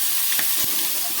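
A spiced Bengali snail curry with turmeric sizzles loudly and continuously in a pan as it is stirred. A couple of brief spatula scrapes cut through the dense hiss.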